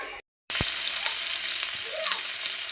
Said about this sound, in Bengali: এই যে মাছটা আমি ভাজা বসাই দিচ্ছি